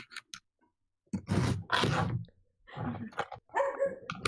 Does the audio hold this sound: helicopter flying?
no